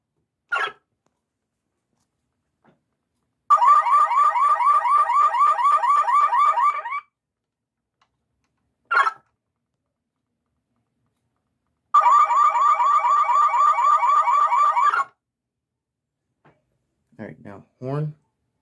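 A car alarm blares in two long, rapidly pulsing bursts, separated by short chirps, loud and close, with quiet gaps between.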